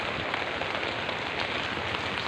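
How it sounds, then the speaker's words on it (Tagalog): Heavy storm rain pours steadily, a dense close hiss of drops drumming on surfaces with no letup and no voices. "Super maulan."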